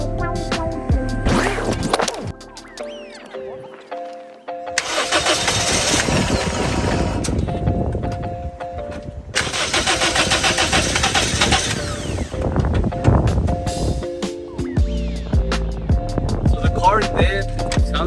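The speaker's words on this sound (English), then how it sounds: "let me go ahead and try to start the car" A 2005 Scion xB on an extremely low battery cranking in repeated bursts, the starter grinding and whirring as the engine catches briefly but never fully starts, with quiet gaps between attempts.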